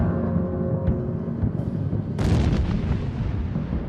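Deep, rumbling volcanic explosion booms from an erupting mountain, loud and sustained, with a sharper burst partway through as the roar continues.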